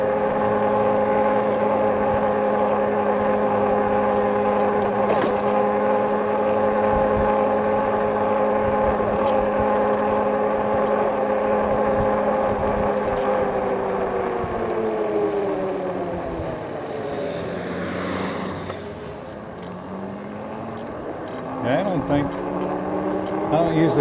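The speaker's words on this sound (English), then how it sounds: "I don't usually drive through here." A car cruises through a small town, its engine hum and road noise holding steady, then easing down as it slows and picking up again, with someone talking over it much of the time.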